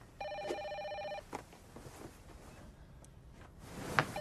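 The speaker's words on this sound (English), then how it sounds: "PJ, answer the phone" A telephone rings once in a short electronic trill, fairly faint, followed by a quiet room with light movement and small knocks.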